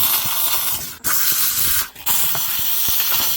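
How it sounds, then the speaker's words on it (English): A steam cleaner blasts car interior cup holders in loud, harsh hissing bursts, with two brief pauses between sprays. "I'm actually going to go ahead and blast this with some steam"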